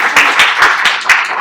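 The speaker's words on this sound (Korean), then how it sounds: "박수 한번 부탁드리겠습니다" An audience at a study-abroad talk about the University of Twente claps in a short burst, a few sharp, evenly spaced claps standing out over a loud, dense patter.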